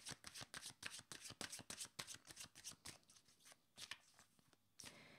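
Tarot cards are shuffled and drawn in a quick run of crisp riffling snaps and flicks, close and quiet, slowing toward the end with a final snap and no voices.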